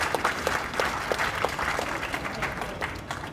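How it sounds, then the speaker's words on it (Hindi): An audience at a public meeting applauds loudly, with individual hand claps standing out over a continuous crowd clapping that stays steady throughout. "जोरदार तालियां बजाएं।"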